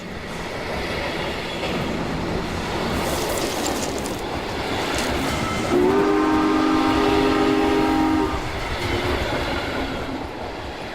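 A passenger train on the Antioquia railway rolls by with steady rumbling and clatter, and its piercing whistle sounds in one sustained blast midway through, fairly close and with no voices.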